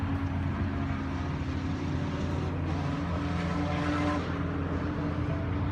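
A yellow Corvette Z06 race car runs on the Laguna Seca track, its steady engine drone and road roar filling the scene at a constant level, with no clear pass-by swell and no talk.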